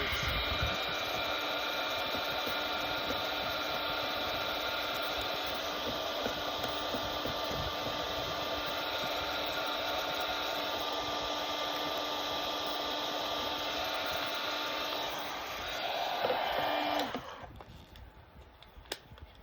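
Heat tool blowing hot air at close range to strip material off a wooden breadboard, a steady loud roaring whoosh held for about seventeen seconds before it cuts off, leaving quiet room noise.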